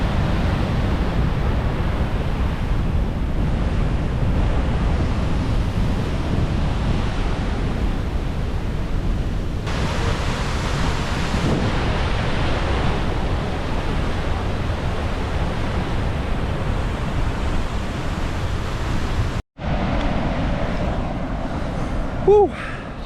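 A waterfall in Rotorua produces a loud, continuous roar of rushing water with wind buffeting the microphone, broken by one brief dropout near the end.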